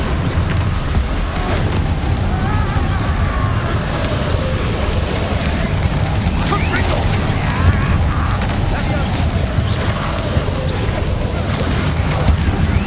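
Bombarda blasting spell detonating in the Hogwarts Legacy video game, a dense, loud roar of rumbling explosion noise and crackling debris that runs continuously with no pause, with scattered sharper bursts.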